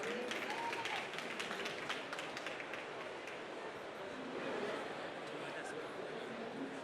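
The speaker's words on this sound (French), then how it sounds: "je vous propose de l'applaudir" At a company presentation event, an audience applauds as someone is invited on stage. Moderate clapping is strongest at first and thins out, with voices and room noise beneath it.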